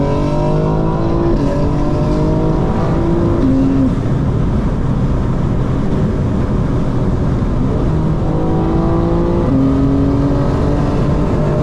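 A 2025 BMW M4 Competition xDrive's engine drones steadily while driving, its pitch stepping up and down through gear changes, heard from inside the car with a constant road rumble beneath and no talking.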